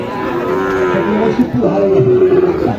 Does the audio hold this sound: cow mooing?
yes